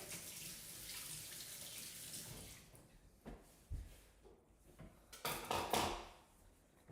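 A kitchen tap runs while hands are washed under it, a steady water rush that thins out into splashes, drips and small bumps near the end, close by with no talk.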